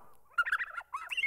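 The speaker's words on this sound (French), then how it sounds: "Le cingle plongeur." A white-throated dipper gives a brief call of a few quick, buzzy chirps in two short bursts, clear and alone against a quiet background.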